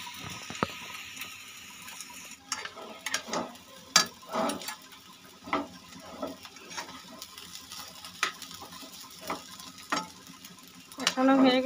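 Cumin and coriander powder are stirred in sizzling butter for butter pulao, with a soft frying hiss under repeated scraping strokes of a spoon against the pan, close and steady.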